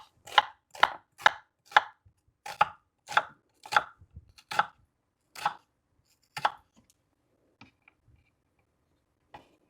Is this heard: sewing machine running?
no